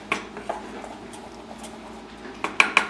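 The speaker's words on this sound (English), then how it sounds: "So I'm just stirring it to kind of work out some of the lumps" A spoon scrapes and clinks against a pot while brown butter caramel sauce is stirred, soft swirling between a handful of sharp metallic taps, with the loudest knocks clustered at the end.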